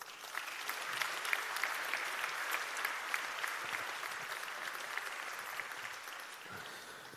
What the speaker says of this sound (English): let's give them one more time a warm applause